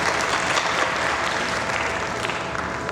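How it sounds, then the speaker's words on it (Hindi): Hall audience at a youth festival applauding for a young girl, a thick, continuous wash of clapping that stays loud and even from start to end. "ताली बजाओ उस बच्ची के लिए।"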